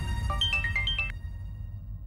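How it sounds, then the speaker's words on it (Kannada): A phone ringtone for an incoming call plays as a short melodic tune of bright rising and falling notes for about a second, then stops, leaving a steady low room hum. "ಅಮ್ಮ, ಪೂರ್ಣಿಮಾ ಫೋನ್ ಮಾಡ್ತಿದ್ದಾಳೆ."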